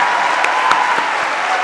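An audience applauds loudly after a talk by Dr. José Luis Marín on depression, a short burst of dense, sharp clapping from a crowd with a few distinct claps standing out.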